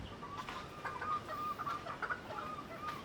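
Chickens and quails on a Philippine backyard farm cluck steadily in a busy, moderately close flock, with soft overlapping calls throughout and no talk.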